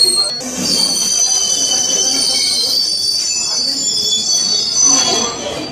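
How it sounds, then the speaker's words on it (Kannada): Train rolling onto a railway platform at Yadgir, wheels squealing in long high-pitched screeches over a steady rumbling roar, loud and close throughout. "ಯಾವ ರೀತಿ ಪ್ಲಾಟ್ಫಾರ್ಮ್ ಮೇಲೆ ನುಗ್ಗಿಬಿಟ್ಟಿದೆ ರೈಲು"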